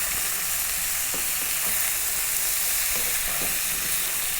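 Cauliflower fries in a pan with cumin and raisins, a steady close sizzle with a few soft stirring knocks partway through, no talking.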